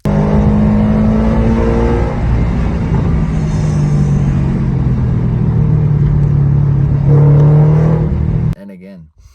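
A 2014 Scion FR-S with unequal-length Tomei headers revs loudly and close, a rough, rumbling exhaust note rising and falling for about eight seconds before cutting off abruptly.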